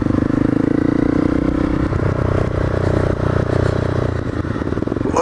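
A Honda CRF 250L motorcycle slides in mud along a country lane with only the back brake on, its engine droning steadily and loud throughout, with clattering and scraping mixed in.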